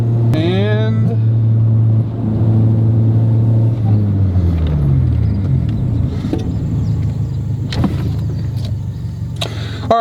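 A Honda Civic engine pulls up through the revs, then drops in pitch with a quick blip as it downshifts while picking up speed on the road, a close steady drone with a voice briefly over it.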